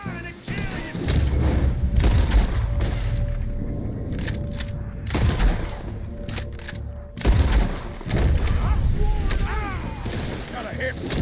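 Gunfire in Red Dead Redemption 2: heavy booming shots and rattling volleys break out in several loud bursts, with quieter gaps between them. People talk over the shooting.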